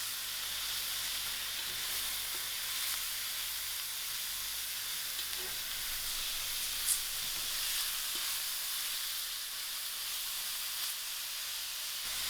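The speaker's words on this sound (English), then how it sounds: "I'm just going to allow this to fry out until the mince is nice and brown." Lamb mince frying in a pan, a steady, fairly quiet sizzle with an even hiss throughout and almost no variation apart from one brief tick.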